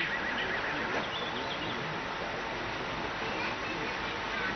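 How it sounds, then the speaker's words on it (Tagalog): Horse neighing in a Tagalog-dubbed animated series, a steady whinny over a dense wash of background noise, with faint voices mixed in. "makisig si Master Cedric sa pagkakasakay sa kanyang kabayo, ano po?"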